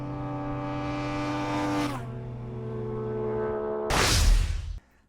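An MV Agusta Superveloce motorcycle engine revving, a loud, steady tone that rises, dips, holds, then flares into a harsh roar before cutting off.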